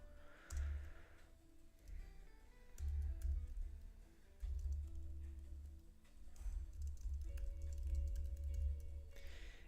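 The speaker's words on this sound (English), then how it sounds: "Let me just do some quick typing real quick" Quick bursts of typing on a computer keyboard at a desk, soft clicking keys coming in clusters separated by short pauses, close and fairly quiet.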